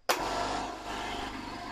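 An air compressor driven by three motors starts abruptly, then settles into a steady loud whirring hum with a low mechanical rumble that runs on uninterrupted.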